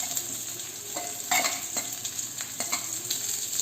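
Sliced onions and crushed garlic with curry leaves sautéing in hot oil for tomato rasam, with a steady close sizzle and several distinct stirring scrapes.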